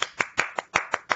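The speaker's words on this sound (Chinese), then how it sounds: "我们就让我们用这个热烈的掌声来欢迎今天的讲者" A handful of sparse, separate hand claps, about seven in just over a second, come from a small online audience unmuted on a video call to welcome a speaker at an astrophysics talk.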